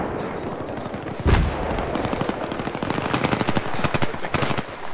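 Rapid automatic gunfire and bursts of shots in a Battlefield 3 team deathmatch on the Noshahr Canals map, loud and close, with a heavy blast early and repeated volleys through the second half.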